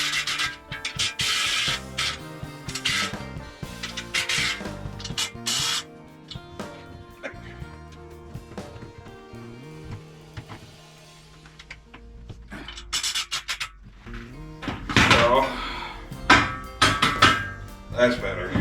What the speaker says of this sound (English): Loosen up these bolts that I tightened up.